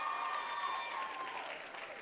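Sustained audience applause at a live stage event after a performance: dense, steady clapping from a full crowd with no talk over it.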